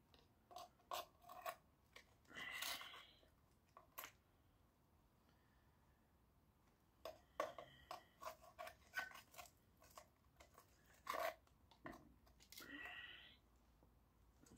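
Copper wires cut from a scrapped electric motor, sharp metallic snips and clicks in irregular clusters with quiet gaps between them, close and moderately loud, with no talk over them.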